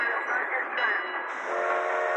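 A train in PUBG sounds a high whistle over a steady rolling rumble, with a voice speaking briefly in the background.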